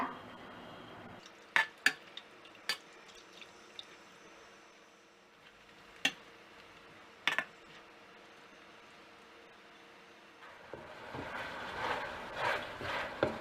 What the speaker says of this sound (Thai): ผัดมาได้พักใหญ่นะคะ ตอนนี้น้ำก็เริ่มแห้งแล้วค่ะ